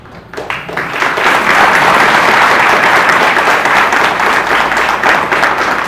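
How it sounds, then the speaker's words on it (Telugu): A crowd applauds loudly during a religious discourse on Sri Krishna, the clapping swelling quickly from a quiet start into a sustained, dense roar of many hands that holds to the end. "అక్కడున్న వాళ్ళందరూ ఆనందంతో ఇలాగే చప్పట్లు గట్టిగా కొట్టారు."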